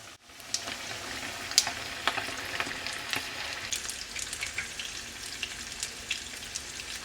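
Buttermilk chicken fries in hot oil with a steady, close sizzle and scattered sharp pops and crackles, no voices.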